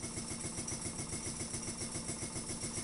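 An improved Ringbom Stirling engine runs fast and steady on its own, a soft, even mechanical whir with a rapid regular pulse throughout.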